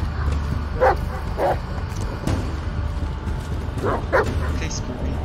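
A dog in the horror game Blair Witch gives several short barks and whimpers spaced across the moment, each yip clear above a steady low drone of game ambience.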